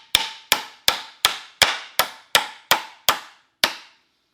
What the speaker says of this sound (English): we'll go ahead and we'll nail that up